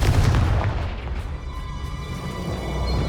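A Confringo fire spell from Hogwarts Legacy goes off as one loud booming blast with a rumbling tail that fades over about three seconds, heard alone without voices.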